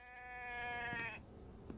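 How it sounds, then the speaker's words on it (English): A single goat bleat in the video game The Infected, one wavering, drawn-out cry lasting about a second, fairly faint, followed by quiet background noise. "I hear a goat, which means I'm going to go out and kill the goat real fast"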